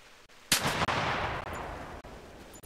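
Gunshot in theHunter Classic, a sharp blast with a long rolling echo that trails off over a couple of seconds, fairly loud with no talk.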